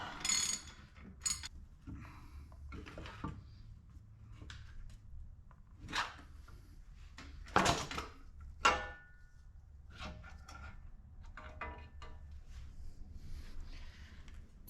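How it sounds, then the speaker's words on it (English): Pinion gear sliding out of a Dana 44 front axle on a Datsun 521 diesel 4x4, giving scattered metallic clunks, scrapes and a few sharp knocks, close by and fairly quiet. "now what we got is the pinion gear. It's this thing in here. And since we loosened it up before, it's going to come out pretty easily."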